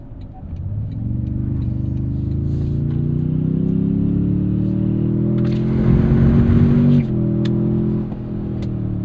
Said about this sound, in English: Just lots of wind noise, I suspect from the tow mirrors.